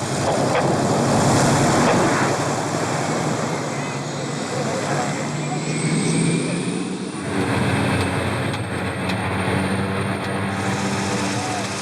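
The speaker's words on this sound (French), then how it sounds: "À Kentiba, l'arrivée d'un avion," A light aircraft arriving at the muddy, rain-soaked Kentiba airstrip, its engine droning loudly and steadily with gusting wind noise, shifting tone partway through as it comes in, with people talking over it.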